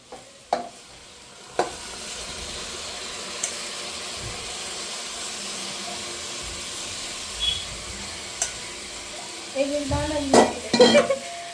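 Soaked rice for egg biryani tipped into a pot and stirred, with a steady background sizzle and hiss, a few sharp clanks early on and a cluster of louder scraping, clattering stirs near the end; no talking.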